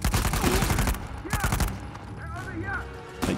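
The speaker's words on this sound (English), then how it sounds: "Sam, why the fuck are you shooting me?" Gunfire in the video game Uncharted 4, dense rapid bursts of shots in the first half, then scattered pops and tonal game effects while a player talks over it.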